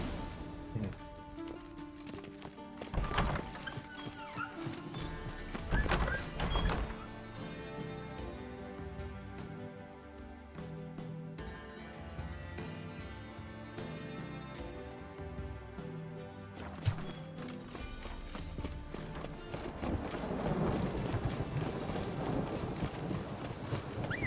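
Horse hooves clip-clopping steadily in the fantasy video game The Witcher 3, a rhythmic trot under wind and orchestral game music throughout.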